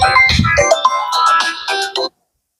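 A phone ringtone plays a bright electronic melody for about two seconds, loud and close, then cuts off abruptly into silence.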